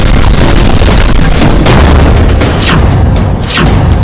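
A Dhruvastra anti-tank missile blast destroys a tank, a loud sustained boom with rumbling roar and crackling bursts, close and overwhelming throughout.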